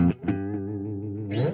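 Clean electric guitar tone through DiMarzio PG-13 mini humbuckers: a short sustained chord following a couple of quick plucked attacks, rich in harmonics and fairly soft, with no voices.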